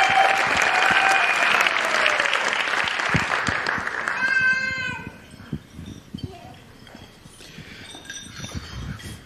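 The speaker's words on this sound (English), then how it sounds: "So if we all give a round of applause." Wedding reception guests applauding in a loud sustained round that dies away after about four seconds, with a bright tonal whistle-like sound and murmuring voices following.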